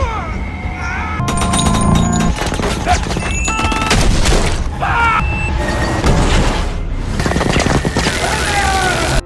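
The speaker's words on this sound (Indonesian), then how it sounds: "Kruger dan timnya menembaki Max dan timnya." Gunfire erupts during a firefight in the sci-fi film Elysium, with dense, loud bursts of shots, booms and clattering effects layered over a tense musical score.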